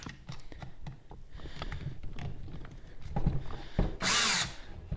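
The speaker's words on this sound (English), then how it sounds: "let's get our drill ready" Scattered clatter and handling noises, then a power drill whirs loudly in a short close-up burst near the end, readied for cutting a thread for a Harley-Davidson vented dipstick fix.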